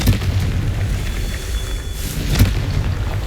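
Confringo blasting spell explosions in Hogwarts Legacy, heard as two heavy booming bursts, one at the start and a louder one later, over a rumbling background.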